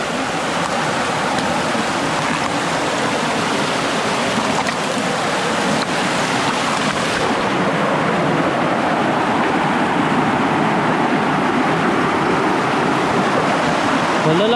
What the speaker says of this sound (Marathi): म्हणजे हा इथं धबधबा आहे. छोटासा धबधबा.